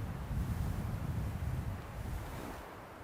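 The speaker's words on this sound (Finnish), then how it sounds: "Toivottavasti toi tuuli kuuluu sinnekin." Wind gusting through winter woods near a shore, a steady loud roar with low rumbling buffeting that sounds partly like wind hitting the microphone, continuous and without speech.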